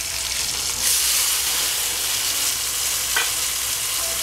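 Chicken thighs fry in a pan as wine is poured in, giving a loud, steady sizzle that continues with soft stirring, with no voices.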